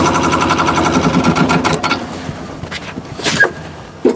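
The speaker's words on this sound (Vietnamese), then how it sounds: "Máy động cơ hai máy anh, động cơ gian ba hai máy dầu." Two-cylinder diesel engine of a 10-horsepower tractor, model 2T68, running with a steady loud knocking drone that fades out near the end before a short knock and a brief clatter.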